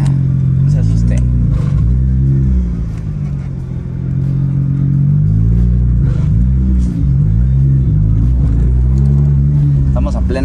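A Nissan GT-R engine sits at a loud, rumbling idle and is blipped several times, the revs rising and falling in quick surges close by.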